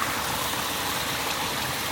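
Spring water flowing in Johnston Canyon on a hike, heard as a steady, close rushing wash that fills the whole moment without a break.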